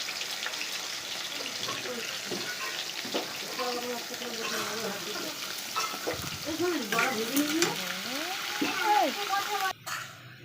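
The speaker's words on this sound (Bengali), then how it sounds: "আলুটা ভালো করে ভাজতে এবারে নুন দিয়ে হলুদ দিয়ে।" Potato pieces frying in a pan of hot oil, seasoned with salt and turmeric, with a continuous close sizzle and repeated scraping stirs. Someone speaks in bursts over the cooking, and a brief knock comes near the end.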